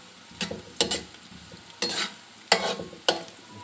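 Food frying in a pan under a quiet background sizzle, punctuated by five or six sharp stirring scrapes and knocks of a utensil against the pan.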